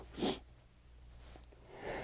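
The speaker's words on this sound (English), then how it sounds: "here comes the sneeze." A single sneeze bursts out near the start, loud and close, a short sharp burst of breath, followed by quiet room tone and a softer breathy exhale toward the end.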